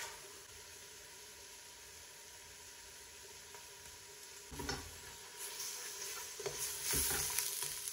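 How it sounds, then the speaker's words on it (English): Celery, onions and garlic, including roasted whole cloves, sizzle softly in butter. A faint frying hiss grows louder toward the end with stirring scrapes. "my celery and my onions are now translucent, sauteing in that butter"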